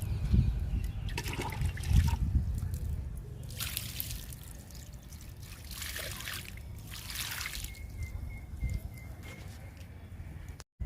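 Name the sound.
watering plant tub with water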